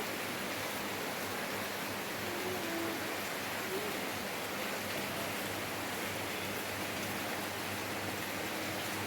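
Steady, dense rain pours down outside, a constant hiss of drops on surfaces with no pauses or voices.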